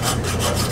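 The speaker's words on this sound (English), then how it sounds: "So here he is filing parts." Hand file rasping over car parts during the restoration of an abandoned 1957 Chevy Tri-Five, a steady, continuous scraping stroke heard up close with no talking.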